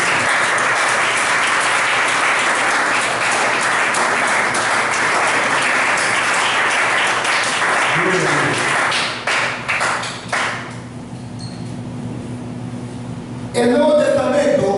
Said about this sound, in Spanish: Denle un fuerte aplauso, Señor,